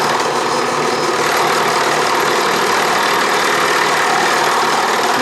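A dull end mill cuts metal on a 6-inch Atlas lathe, producing a loud, steady machining roar with a grinding, rumbling edge that runs unbroken and close, with no talk.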